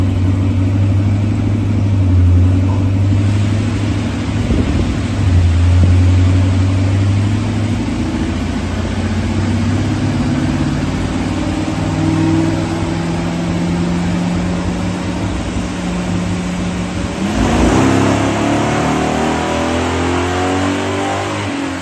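A 1968 Pontiac Firebird with a Ram Air II engine revs hard on a dyno through a couple of long pulls, the loud engine note climbing in pitch through the gears, then easing off before another surge near the end.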